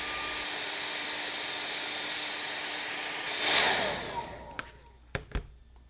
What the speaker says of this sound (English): Take either a blow dryer or a heat gun and heat each edge for 30 seconds.